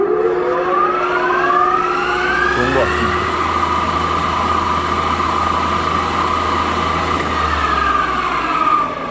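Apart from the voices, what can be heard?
conventional engine lathe running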